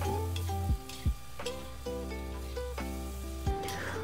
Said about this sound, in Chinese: 炒到虾仁差不多快好了